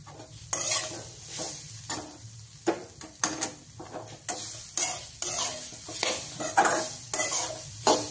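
Grated fresh wet coconut sizzles gently in a pan as a spoon scrapes and stirs it in irregular strokes, with soft clinks against the pan and no speech.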